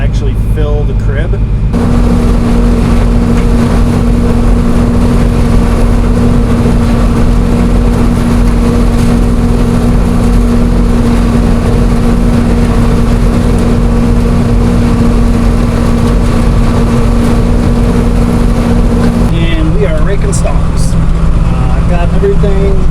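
A heavy farm loader tractor engine drones loudly and continuously at a steady pitch, close by, with a mechanical hum that shifts near the end.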